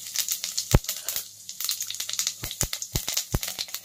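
Whole cumin seeds crackle in a small amount of hot oil in a kadai, with a soft frying hiss and a scatter of sharp, irregular pops close by. No one speaks.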